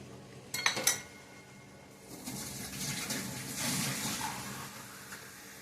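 A couple of quick metallic clinks are followed by a soft, fairly quiet gush of water poured into a pot for ridge gourd sambar, running for a few seconds with no talking.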